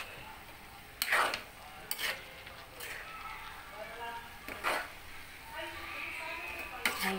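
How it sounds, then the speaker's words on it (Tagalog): A utensil gently stirs chopsuey in a pan, producing a few separate scraping strokes spaced about a second apart over a soft sizzling background, with a voice speaking at times. "at haluin natin ulit. Halo, halo, halo, pero dahan-dahan lang po sa paghalo."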